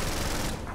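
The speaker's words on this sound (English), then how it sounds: "which sounds like a fucking nail gun" A medic gun in the Killing Floor video game fires a brief, loud, rapid burst of shots that sounds like a nail gun, with no one speaking over it.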